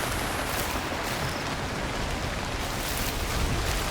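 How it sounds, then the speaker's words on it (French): Steady rain falls at night in the climbing video game Cairn, a soft, even hiss of drops with no break and no talk. "Non seulement il fait nuit, mais en plus il pleut."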